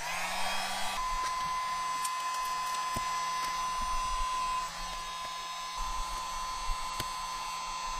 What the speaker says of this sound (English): I'll need the heat gun to get this old GoPro mount off because this is going to go exactly where that mount is